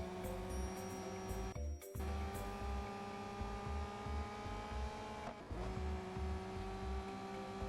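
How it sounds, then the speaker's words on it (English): In Real Racing 3, a steady game-car engine drone plays while drafting behind a Pagani Huayra, a constant tone with faint rhythmic pulsing and a brief dip partway through, and no talking. "this time I am drafting off of this Pagani Huayra"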